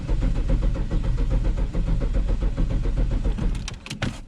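A swapped-in 253 V8 in a Hilux turns over on the starter in a steady, rhythmic chug, cranking continuously without catching, close and loud, with a few higher whirring bursts near the end.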